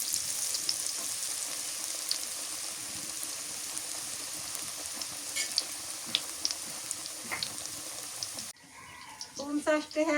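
Onion fritters (piyajer bora) frying in hot oil, a steady broadband sizzle held for most of the stretch, then a quieter tail with scattered clinks and stirring sounds near the end.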